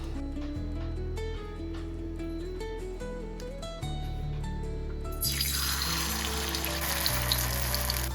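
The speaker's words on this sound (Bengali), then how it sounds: "এখানে আমাদের কুমড়ো ফুলের বড়াগুলো ভাজা হোক।" Oil bubbles and crackles in a pan as batter-coated pumpkin flower fritters fry, a continuous close sizzle that grows louder and brighter partway through, with no talking.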